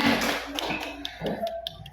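A short patter of hand claps or taps, several quick irregular strikes under faint room noise, moderately close and brief.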